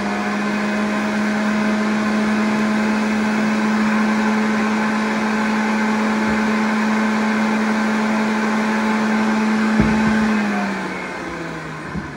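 A blender whirs steadily while mixing cucumber slices and green pepper for green juice, a loud continuous motor drone that holds for about ten seconds and then winds down near the end.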